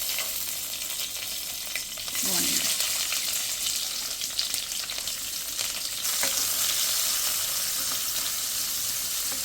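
Chillies fry in hot oil in a pan on a home stove, a steady broadband sizzle that swells louder partway through and keeps crackling without talk.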